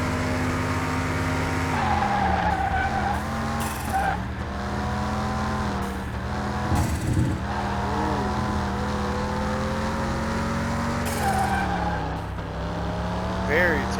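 A car in Car Mechanic Simulator 2021 brakes hard, its steady engine drone joined by wavering tire squeals and skids, with someone talking over it throughout.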